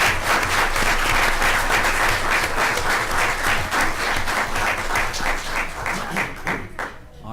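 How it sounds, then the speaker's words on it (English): Big round of applause from the audience at a school board of education meeting, dense steady clapping filling the room and tapering off near the end. "Now, if I could have one more big round of applause for our Wilcox Rock participants."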